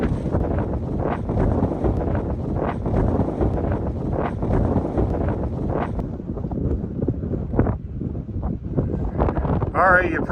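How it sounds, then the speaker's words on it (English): Strong outdoor wind buffeting the microphone in loud, uneven gusts, with someone talking over it through much of the clip. "Geez, windy out here today."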